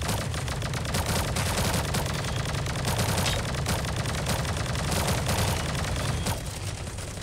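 Continuous gunfire from a Sausage Man battle-royale match, rapid dense bursts layered into a sustained loud fusillade across the whole span, easing slightly near the end.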